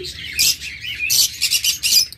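A pair of opaline lovebirds, a red-eye fisher female and a black-eye male, give bright, shrill chirps in short bursts with brief pauses, close and fairly loud.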